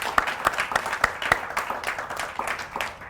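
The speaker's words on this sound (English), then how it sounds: "let's give a round of applause for Jeremy Hanks being here." Audience applause at a Startup Grind event in Hong Kong, a steady patter of many hands clapping in a room, moderately loud and continuous for a few seconds with no one speaking over it.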